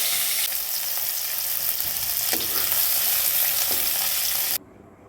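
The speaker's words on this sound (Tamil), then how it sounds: "எண்ணெய் ஊற்றிக்கலாம் சீரகம் போட்டுக்கலாம் நம்ம கட் பண்ணி வச்சுருக்கிற காய்கறிகள்லாம் போட்டுக்கலாம்" Chopped vegetables and cumin seeds sizzle steadily in hot oil for a spinach dal curry, a loud continuous frying hiss with faint stirring scrapes, cutting off abruptly near the end.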